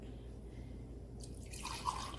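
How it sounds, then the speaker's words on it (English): Ginger lemon tea is poured into a cup, a faint, brief splash of liquid that begins about halfway through after near silence. "now we're gonna pour it in our cup"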